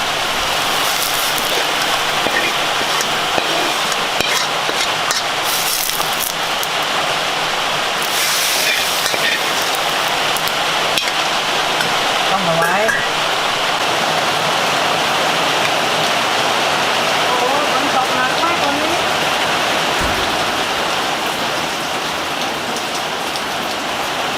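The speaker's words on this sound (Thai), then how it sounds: "นี้ภูเก็ตฝนตกนะครับสองวันแล้วสองสามวันแล้วนะ" Heavy rain pours steadily in Phuket, a dense, constant hiss of drops hitting surfaces that stays loud and unbroken throughout, with no voices over it.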